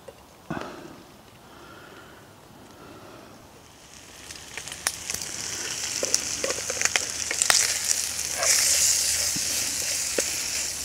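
Bacon frying over a fire in a jungle camp, fuel paste burning beneath the pan: a broad hiss that swells from about four seconds into steady sizzling with sharp crackles and pops, close up and without talk.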